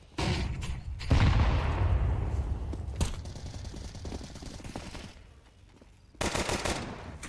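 Gunfire from Glock pistols and an AK rifle in a competitive video game match: bursts of rapid shots and sharp reports in clusters with brief gaps, loud and close, no talk over them.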